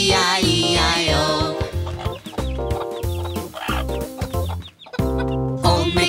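Chicken clucks in the nursery rhyme Old MacDonald, imitated by singing voices in rhythmic bursts over a bouncy children's-song backing track that plays loudly throughout.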